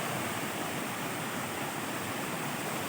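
Steady roar of the Meenmutty waterfall in Wayanad, a dense, even rush of falling water that fills the whole clip with no voices or other sounds.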